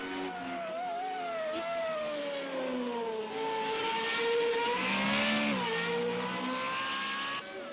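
An FR35 race car at the Austria circuit is heard at a sustained high-revving engine note, rising and falling with gear changes through corners, loud and continuous without talk.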